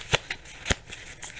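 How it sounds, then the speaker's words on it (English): Two or three quick, crisp riffling bursts of a deck of cards being shuffled, close by, with short pauses between them. "Here's the deck. Let's give it a little shuffle."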